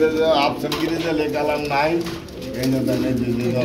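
Pigeons cooing among many pigeon pairs kept for sale, several soft throaty coos close by, mixed with people talking.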